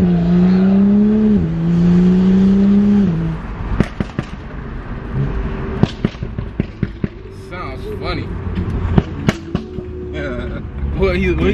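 A BMW engine revs with a loud droning tone, then its exhaust fires off a rapid series of sharp pops and bangs as the throttle lifts, close by and loud, with the crackling continuing to the end.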